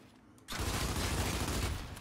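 Longshot sniper rifle fire in the Gears 5 arcade deathmatch on District: after a quiet half second, a loud burst of gunfire erupts and a dense, sustained roar of shots and mechanisms fills the rest of the clip.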